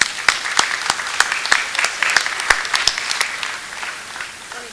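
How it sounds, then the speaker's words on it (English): Applause from an audience at Anderson High School's Hall of Fame induction ceremony, brisk and fairly loud, with sharp individual claps standing out from a dense, sustained wash of clapping. "So please give him a little round of applause and thanks."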